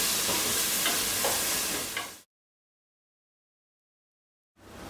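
Onions softening in a pan on low heat, a gentle steady sizzle for about two seconds that cuts to silence, then resumes faintly near the end.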